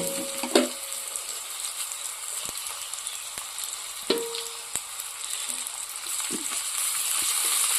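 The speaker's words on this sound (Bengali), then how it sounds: "তো এবার আমি এটাকে একটু নাড়াচাড়া করে দেবো" Cauliflower fry being stirred in a hot pan: soft sizzling runs throughout, broken by a few sharp scrapes and clicks of a spoon against the pan at irregular moments.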